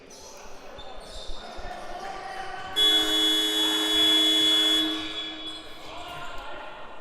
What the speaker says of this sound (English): that buzzer definitely signifying that the time is over